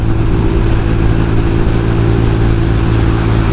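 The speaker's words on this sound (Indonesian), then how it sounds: "Dan gasnya gue nggak bisa tarik dalam karena magnetnya berisik." A replacement motorcycle engine with a noisy magneto idles and runs steadily, loud and close, with a constant low drone and no clear revving swell.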